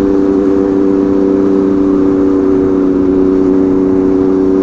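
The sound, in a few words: Suzuki GSX-S750 motorcycle exhaust noise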